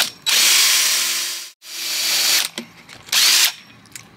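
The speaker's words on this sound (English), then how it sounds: "I just want to put something here, just so I don't drill right through into the table." A power drill bores a hole in a bonsai stand in three loud whirring bursts with short pauses between them, the first two long and the last brief.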